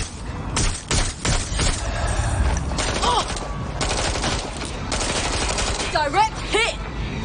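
Bursts of gunfire from the video game Watch Dogs: Legion, rapid shots and volleys repeating through the stretch, loud and close, with a voice shouting over the shooting.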